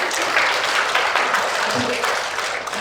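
A room full of people at a community breast care information forum clapping, steady and fairly loud, continuing without pause.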